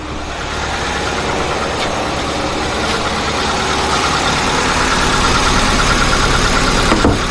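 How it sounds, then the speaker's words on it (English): A car engine idles steadily with the AC switched on and its compressor clutch engaged, a continuous, fairly loud mechanical drone and hum heard close up under the hood with no talking. "The compressor is on."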